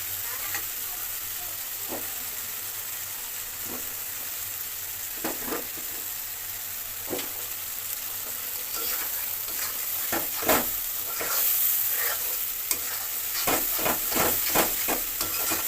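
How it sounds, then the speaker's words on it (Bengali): A paste of chilli powder and turmeric for crab curry fries in a pan with a constant sizzling hiss, broken by sharp spoon scrapes and clinks that come faster toward the end. "লঙ্কা গুঁড়ো আর হলুদ গুঁড়োর যে পেস্টটা দিলাম এটা ভালো করে কষাতে হবে"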